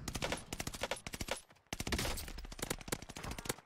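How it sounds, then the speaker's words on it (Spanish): Rapid bursts of automatic gunfire from the video game Call of Duty: Vanguard crackle almost continuously, with dense overlapping shots, a brief lull midway, then sustained firing resuming. "Le pega unos tiros, deja de disparar."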